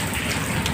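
Heavy rain pours steadily and densely close by, a continuous loud hiss of drops without breaks.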